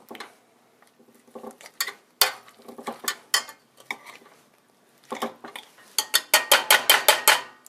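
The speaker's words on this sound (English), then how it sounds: "go ahead and start mashing the potatoes" Boiled potatoes with melted butter are mashed in a pot, giving a series of sharp metallic clacks and scrapes of a masher against the pot, irregular at first and then a quick steady run of close, loud strikes.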